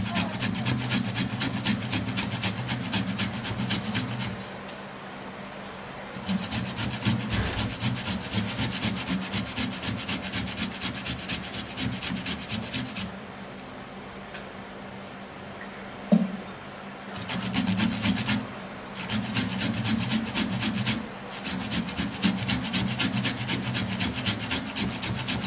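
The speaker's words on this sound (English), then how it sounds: "the ginger is actually small, so blending it is not going to be great. So let me just grate it." Fresh ginger grated by hand, making loud, close, rhythmic rasping strokes in steady runs broken by a few short pauses.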